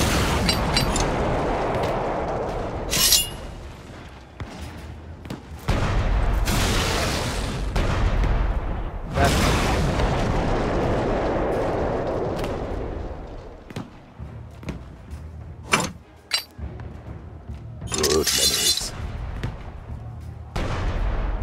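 Repeated booming cannon blasts with explosive bursts and rumbling aftershocks, irregularly spaced, loud and reverberant amid sound effects of the PC game Shadow Tactics: Blades of the Shogun.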